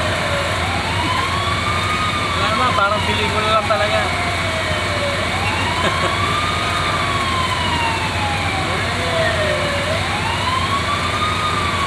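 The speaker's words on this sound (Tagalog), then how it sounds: "Bumbero yan." Wailing fire truck siren sweeping up and down in repeated slow cycles, steady and fairly close amid congested traffic with engine rumble beneath; a voice speaks briefly over it.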